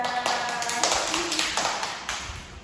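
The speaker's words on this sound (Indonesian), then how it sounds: "beri tepuk tangan untuk Mbak Firda" A classroom group applauds a student after a teaching presentation, steady dense clapping from many hands filling the room for a few seconds and gradually fading.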